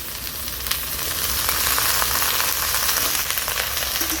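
Banana stem, potatoes and mixed monsoon vegetables fry in a pan for a vegetarian curry, a loud continuous close sizzle with occasional stirring clicks, no voices.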